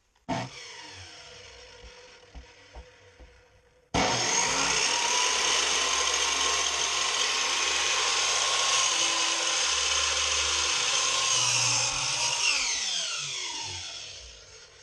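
A power saw cuts through a wood board for a laundry table, starting with a few short bursts, then a loud sustained whining cut of about nine seconds that winds down at the end.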